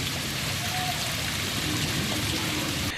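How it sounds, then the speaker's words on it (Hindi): Steady monsoon rain falling in a town market area in Sardarshahar, Churu, a continuous broadband wash of drops and water running close by, with no speech. "बारिश से आमजन को पड़ रही गर्मी से राहत मिलेगी।"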